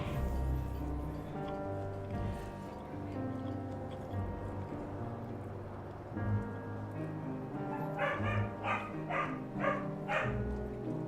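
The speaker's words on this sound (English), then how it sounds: "Sorry about my dogs. They are very loud today." Several dogs barking loudly indoors at home, repeated barks and yips stacking over a steady background of game music and sound, with bursts growing denser toward the end.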